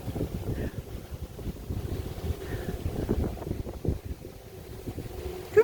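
Wind blowing outdoors at Brazeau Dam, a steady low rumble of gusts buffeting the microphone, rising and falling without a break.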